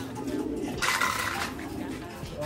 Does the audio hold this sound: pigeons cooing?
yes